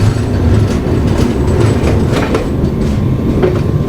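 Mewar SF Express pulling out of Sawai Madhopur Junction, a steady loud low rumble of rolling rail cars with faint rhythmic clickety-clack from the wheels, continuous throughout with no talk.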